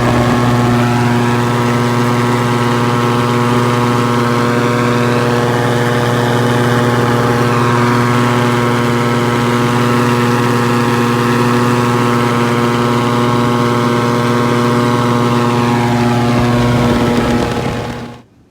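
A light propeller plane with a Mitsubishi-based Viking engine in a Rans aircraft drones steadily and loudly in flight with a strong, even hum, holding constant before cutting off abruptly at the end.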